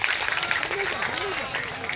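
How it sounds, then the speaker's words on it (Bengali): A crowd at an outdoor school-ground cultural event claps steadily throughout, a dense, continuous patter of hands, with a voice carrying faintly over it. "আমরা একটু জোরে হাততালি দিয়ে আজকের সকল শিল্পী জানাই"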